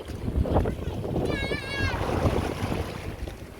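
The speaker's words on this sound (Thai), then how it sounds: "ลมทะเลกะพัดวันวัน" Sea wind blows steadily across the shore during oyster gathering, a continuous broadband rush with surf-like wash underneath, loud and close with wind buffeting the microphone, while a voice speaks over it and a brief whistle-like tone rises midway.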